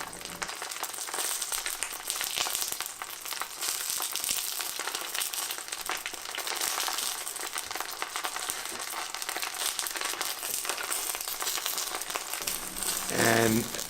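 Cabbage frying in hot butter with dulse seaweed as it is basted, a steady, close, loud sizzle and crackle lasting throughout, with a brief clatter near the end.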